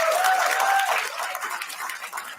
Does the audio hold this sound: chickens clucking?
no